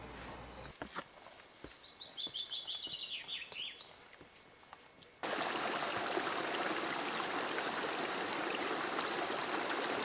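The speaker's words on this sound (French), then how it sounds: "Ruisseaux et lacs, nichés sous une dense forêt de pins accrochés, se succèdent" Mountain stream among lakes and pine forest: birds chirp over quiet ambience, then steady loud rushing water takes over for the rest.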